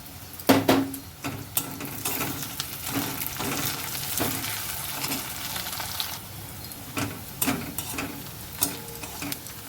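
Chopped green chillies hit lightly browned onions in a frying pan with a broad sizzle, and a spatula scrapes and stirs in sharp, irregular strokes throughout, close and fairly loud.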